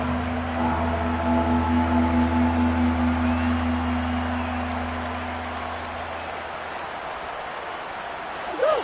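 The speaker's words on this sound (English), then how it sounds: "the crowd getting into it as we come up on a big 3rd down" Crowd noise in a Madden football video game on PS5, a steady broad roar of cheering fans building ahead of a big third down, with a low sustained hum beneath it that fades slightly toward the end.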